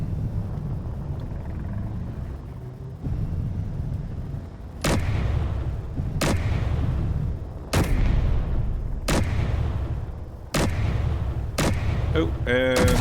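Gunfire in the space sandbox game Space Engineers: a string of loud, sharp shots at irregular intervals of a second or two over steady low engine rumble, ending in a rapid burst of quicker shots.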